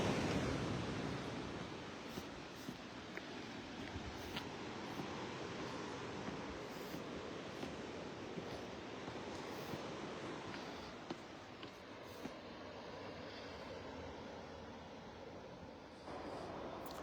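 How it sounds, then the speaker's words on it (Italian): Sea waves wash onto a Sicilian shore at the water's edge, a soft, continuous surf hiss with gentle swells, faint and steady with no talk. "mentre noi stiamo per giungere nella battigia, ammirando il mare siciliano"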